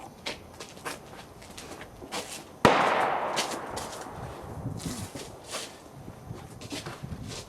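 A single sharp report from a Savage .308 rifle firing a Nosler E-Tip load, one loud crack outdoors followed by a brief decaying echo, with faint background noise before and after.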